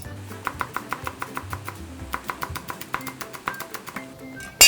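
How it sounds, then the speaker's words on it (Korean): A knife chops green onions and chili peppers on a cutting board for ramen garnish, giving a steady run of crisp, close taps that clump into quick bursts over about four seconds, with no talk. "그 다음에 파 좀 썰어주시고, 나중에 위에 고명으로 올리면 좋거든요. 얇게 써는 게 좋겠죠."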